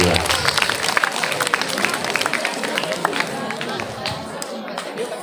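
Children in a classroom clapping for a classmate's correct answer, a busy, fairly close patter of small hands mixed with chatter and excited voices, thinning out toward the end.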